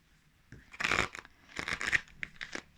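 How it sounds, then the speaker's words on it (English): Tarot cards being handled and pulled from a deck, giving two bursts of papery rustling and crinkling with a few softer shuffles between, close and fairly quiet with no talking. "I'm gonna pull 3 more tarot cards"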